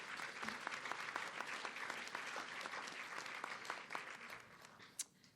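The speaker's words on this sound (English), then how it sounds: "Can we give him another round of applause," Dense applause from an audience at a morning business event, honoring the mayor after a presentation, a steady wash of many hands clapping that fades near the end, with one sharp clap at the close.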